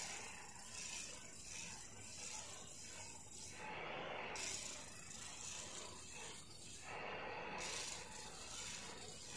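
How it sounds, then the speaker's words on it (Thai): A knife blade being sharpened and polished on a pedal-driven grinding wheel in India gives a steady, scraping rasp that runs continuously with a couple of brief breaks, moderately loud and alone. "พร้อมกับขัดไอ้ตรงที่มันดำๆออกให้ด้วย ฟังเสียงแล้วก็แบบว่าเสียวฟันมาก"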